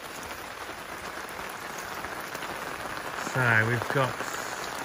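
Steady rain patters on a camp awning at night after the camp has been set up, a soft even hiss throughout, with someone briefly speaking close by near the end.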